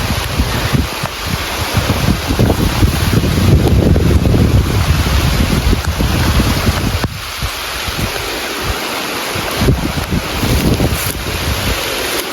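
Strong wind with rain sweeps a mountain road, a loud continuous roaring buffet against the microphone with a steady hiss, surging and easing over several seconds.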